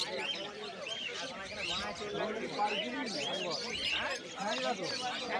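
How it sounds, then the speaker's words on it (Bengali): Budgerigars chirp densely and continuously at a busy bird market in Uluberia, a chorus of overlapping tweets with faint voices mixed in the background. "হাটে প্রচুর বদ্রি পাখি এসছে।"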